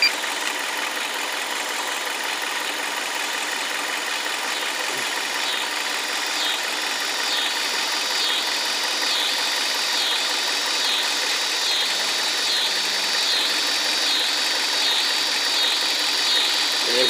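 A car engine idling steadily during an alternator test, a continuous mid-pitched hum with a faint rhythmic pulsing, close and constant throughout.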